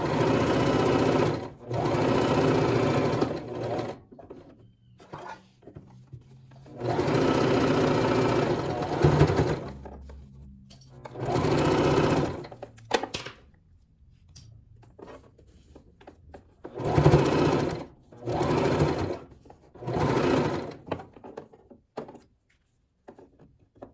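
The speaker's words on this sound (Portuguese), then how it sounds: "Eu vou costurar, dando a volta." Sewing machine stitching around the edge of a multi-pocket fabric piece, running in several loud bursts of steady whirring separated by short pauses and brief reverse stitches, close and with no talk.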